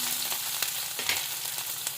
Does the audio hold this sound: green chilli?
yes